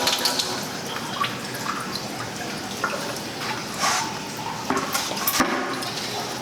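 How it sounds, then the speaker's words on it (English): A sink tap runs steadily while a garbage-disposal fluid trap is rinsed under it, close splashing and gurgling water with small knocks and drips, no talking. "Guess I'll rinse this thing out the other sink and just dump the excess in the bucket"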